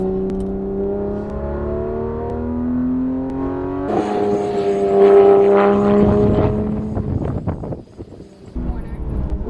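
Porsche 911 GT3 RS (991) at full throttle on a race track, engine note climbing in steady harmonic pitch that jumps louder and brighter partway through as revs build, close and loud, under intermittent speech.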